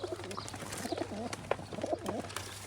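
Pigeons coo softly inside a coop, several low rolling calls overlapping at close range over a faint constant hum, with no talking.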